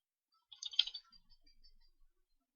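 A computer keyboard in a quiet room gives a short, faint burst of close key clicks, a quick cluster of taps for a Revit shortcut command that trails off into a few lighter presses.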